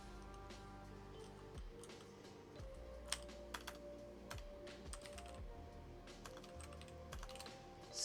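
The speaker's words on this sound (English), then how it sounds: "Can I stop having my I key pop out and screw up my typing?" Rapid typing on a computer keyboard, a steady run of close, crisp key clicks with irregular rhythm, heard alone without talk.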